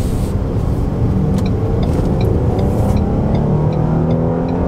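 Steady engine and road noise from a 2018 Ford Explorer with the 3.5-litre engine pulling under acceleration, a continuous loud drone heard from inside the cabin with no talk.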